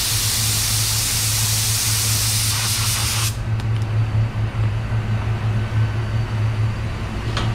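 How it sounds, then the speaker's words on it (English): A spray gun sprays candy red paint at 29 PSI, a close, steady hiss that is loud for the first three seconds, then drops to a softer continuous hiss over a low background hum. "we're gonna spray at 29 PSI"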